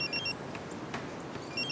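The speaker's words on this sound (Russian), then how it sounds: "Я отвечу на звонок, хорошо?" A telephone rings a few times in a quiet outdoor setting, a soft repeating electronic trill that is fairly faint and heard alone with no talking.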